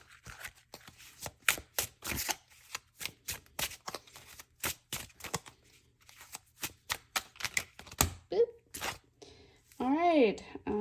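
Tarot cards are shuffled in a rapid run of crisp riffling snaps, close and clear, and a voice breaks in near the end.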